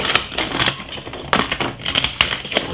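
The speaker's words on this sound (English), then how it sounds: "I'm gonna put some ice." Ice cubes are dropped into a smoothie blender with lemon and greens, giving a rapid series of hard clinks and rattles, close and fairly loud, with no speech.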